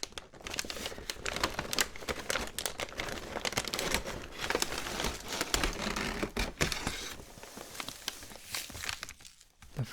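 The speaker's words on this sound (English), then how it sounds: "Lots of paper crinkling. Paper crinkling." Paper crinkles continuously while an unboxing is underway, close and detailed, with dense rustling, scrunching and sharp crackles over ten seconds and no talking.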